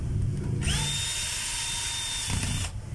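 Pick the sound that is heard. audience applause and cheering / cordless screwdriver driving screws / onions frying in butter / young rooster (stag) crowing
cordless screwdriver driving screws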